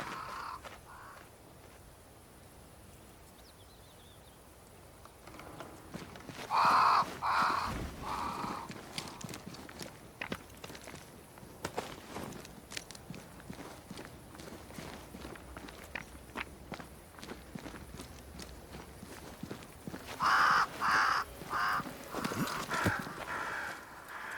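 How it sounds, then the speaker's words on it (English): Crows cawing near a great tree in the video game Banishers: Ghosts of New Eden, several sharp caws in two clustered bursts over footsteps and hoofbeat-like clopping. "crows. They flock to that great tree up there."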